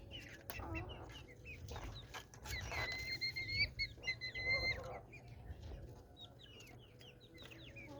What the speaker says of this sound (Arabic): كتاكيتنا بتاكل وبتشرب ومش عيانه